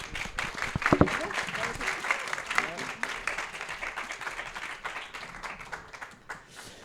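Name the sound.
audience applauding the students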